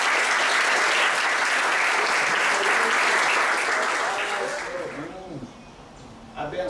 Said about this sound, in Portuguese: queria que vocês dessem uma salva de palmas para a pessoa que representa.